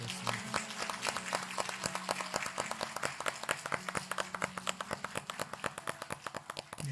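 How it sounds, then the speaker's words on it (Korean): A church congregation at a Sunday morning service claps in welcome for a new minister, a sustained round of many hands applauding indoors at moderate level. "함께 우리 환영의 박수를 나누도록 하겠습니다"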